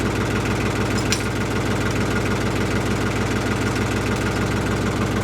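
A small tractor idles steadily in the woods while an oak log is hooked up, giving a continuous, close, rumbling low engine chug with no talking.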